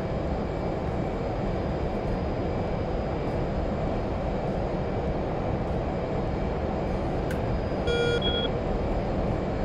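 Jet engine spooling up on an F/A-18 in the DCS flight simulator, a steady broadband roar holding for the whole stretch, with a brief high electronic beep sequence near the end.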